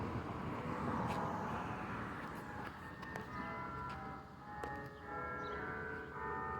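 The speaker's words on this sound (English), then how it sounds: "still chiming, but I don't want to be in the sun." Church bells chime from a distance in the late afternoon, their ringing tones emerging through steady background noise with a few sharp clanks, and the tolling grows clearer toward the end of the clip.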